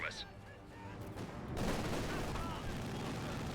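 A half-track's machine gun fires in Company of Heroes 2 amid a dense battle, with a sustained rumbling barrage that swells after a quieter opening, and a voice talks briefly at the start.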